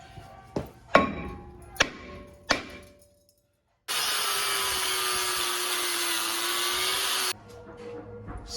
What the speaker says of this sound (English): now we just give it the old hammer bammer